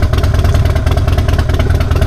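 Engine note of a motorcycle on the move, captured by a helmet-mounted gooseneck microphone, a dense, close low-frequency drone with pulsing clatter and wind-like hiss, unbroken throughout and without speech.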